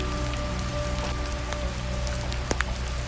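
Steady rain falls outside a hotel window, a dense even patter with occasional sharper drips close by, continuous and calm with no voices.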